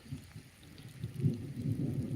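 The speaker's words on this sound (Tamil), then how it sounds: "மழை இறங்கி நல்லா பெய்யுது நல்லா மழை பெய்யுது" Heavy monsoon rain pours down steadily with a low, rumbling roar that swells toward the end. No voices.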